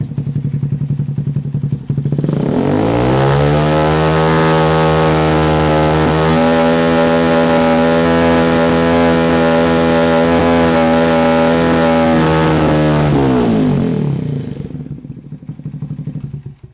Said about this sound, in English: So let's listen to it with the engine revved.